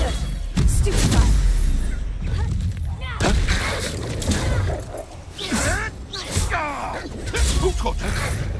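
Spell combat in Hogwarts Legacy: a dense run of booming blasts, whooshes and crashes, loud and near, mixed with shouted incantations and other voices throughout.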